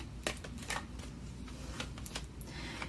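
Tarot cards being shuffled and drawn, with crisp riffling bursts and separate card snaps spread across the moment, close and fairly quiet.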